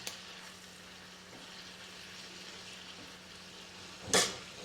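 Wine poured into a hot pan to deglaze it sizzles and fries steadily at low level, then gives a brief louder hiss near the end.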